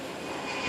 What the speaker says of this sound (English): This A320 from Tuguegarao.